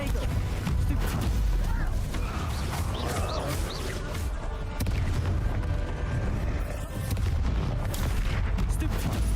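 Spell blasts and explosions from a Hogwarts Legacy battle roar continuously as dense, loud booms and crackling impacts, layered with game effects and cast spells spoken over the din.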